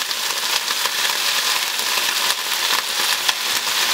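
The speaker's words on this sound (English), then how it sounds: "And you will see the bubbling of the vinegar." White vinegar bubbling and hissing in a pan of green beans and garlic frying in olive oil, a steady bright sizzle with fine crackles throughout, close and without talk.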